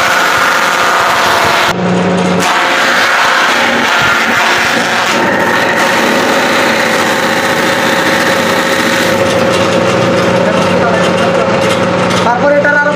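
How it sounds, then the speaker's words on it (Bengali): A machine switched on to process banana plant fiber into thread gives a steady, loud mechanical hum with a constant whirring drone, continuing throughout with slight shifts in texture. "এখন আমি মেশিনের সুইচটা দিয়ে দিচ্ছি"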